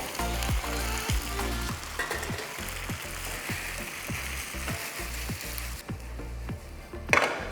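Pasta fries in a pan with rendang and tomatoes, giving a steady close sizzle, with a regular beat of stirring taps against the pan throughout.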